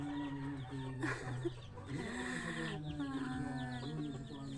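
Several chickens cluck and murmur close by, their short pulsing calls overlapping continuously with a few louder squawks.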